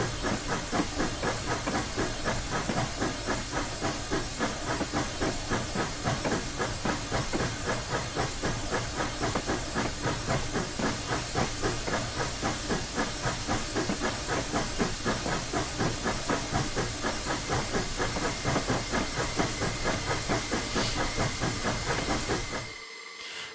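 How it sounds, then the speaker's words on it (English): A Colorado and Southern steam locomotive in Train Simulator's Clear Creek route hisses continuously while moving, with a rhythmic chuffing pulse under the steam. The sound is steady throughout, then cuts off abruptly at the end. "Well done, you got the train moving again."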